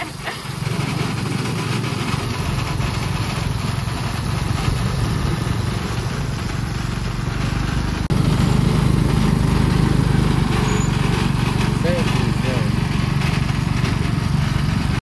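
Motorcycle with a sidecar, ridden through a jungle village in Thailand, its engine droning steadily and close with wind rush, growing slightly louder partway through.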